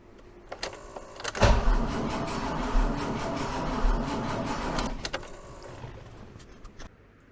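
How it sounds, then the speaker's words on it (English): A BMW E28 M5's fully refurbished, never-started M88/3 engine is cranked over by its starter, a loud, close churning that lasts roughly three and a half seconds after a few light clicks, then cuts off, with no talking. "Yeah, the engine turned over."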